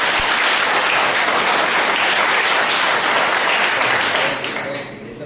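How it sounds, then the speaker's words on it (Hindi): Loud, dense applause from a church congregation at a Sunday morning service, sustained and steady for several seconds, then thinning and fading toward the end. "और कैसे ताली बजाते हैं"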